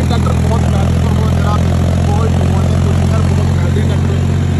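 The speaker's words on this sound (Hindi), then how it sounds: "ट्रैक्टर बहुत बेहतरीन परफॉर्मेंस दे रहा है, बहुत बहुत" A John Deere 5050D tractor engine running with a new Shaktiman rotavator in a farm field, a loud, steady diesel drone with a strong low hum, constant and close throughout.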